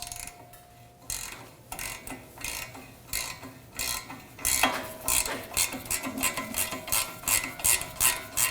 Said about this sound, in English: Now we'll remove the nut for the ball joint with a 19mm.